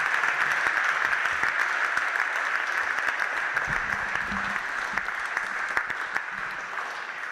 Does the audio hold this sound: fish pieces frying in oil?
no